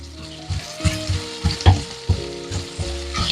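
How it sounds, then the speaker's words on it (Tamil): Fish sizzles on a tawa with onions, green chilies and tomatoes, a close, steady frying hiss punctuated by irregular louder crackles and stirring scrapes, with no talking. "சேர்த்த மீனெல்லாம் தவால சூப்பராக ஃப்ரை ஆச்சு"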